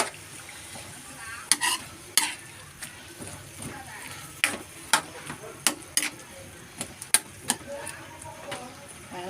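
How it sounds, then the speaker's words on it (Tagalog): String beans stirred in a frying pan with a utensil for adobong sitaw with glass noodles, giving repeated sharp scraping clacks in an irregular rhythm over a soft sizzle. A voice talks faintly between the strokes. "lagyan na natin yung sitaw. At haluin natin. Haluin ng haluin."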